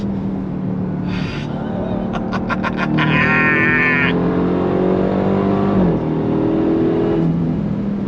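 Loud and close, the supercharged engine of a 2025 Dodge Durango Hellcat Hammerhead performance SUV roars under full throttle, its pitch climbing through gear shifts with a brief dip and rise, steady and dominant throughout.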